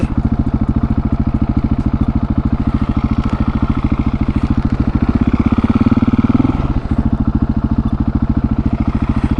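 A 701 motorcycle engine thumps in a steady, loud, close single-cylinder pulse, swelling briefly as it revs during a first-gear wheelie attempt before settling back to its rhythmic beat.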